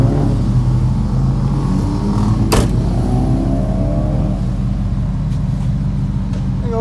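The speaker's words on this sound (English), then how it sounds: "There goes that MagnaFlow exhaust." A 1983 Chevrolet Camaro Z28 with a MagnaFlow exhaust runs with a loud, close, steady low rumble, its engine note droning evenly with a brief sharp click partway through.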